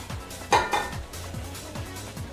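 Macaroni and cheese noodles stirred in a metal pot on a stove, a spoon clanking and scraping loudly against the sides in a couple of strong strokes followed by softer, wetter stirring.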